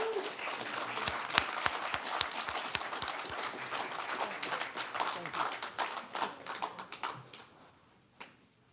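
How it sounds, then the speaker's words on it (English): Scattered applause at a county board of supervisors meeting, several sharp individual claps at first, then a fuller burst of clapping that fades out over the last seconds, with one late clap. "it's okay to clap your hands as well."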